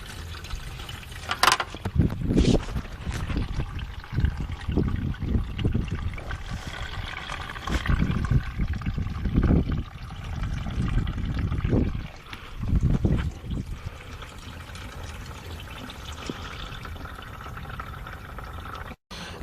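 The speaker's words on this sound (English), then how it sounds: "Take out all the coolant." Coolant draining out of a 1996 Acura Integra radiator into a drain pan, a steady trickling, splashing pour with irregular louder gushes and some clunks, continuing for about twenty seconds with no talking.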